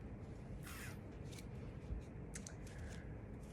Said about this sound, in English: And I started shuffling, but I don't know why.